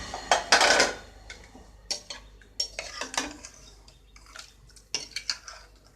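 Lid coming off a pressure cooker after the pressure is released, with the pot being handled while cooking chicken gravy. Metallic clanks and scrapes come up close, with one louder clatter early on and lighter knocks and rattles after it.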